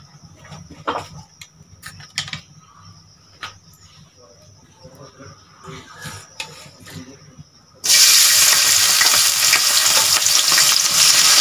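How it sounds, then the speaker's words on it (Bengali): Vegetables for a prawn and taro-leaf dish hit hot oil in a pan, erupting into a loud, steady hiss after several seconds of quiet clinks and handling sounds. "এগুলো ভাজি করে নেব।"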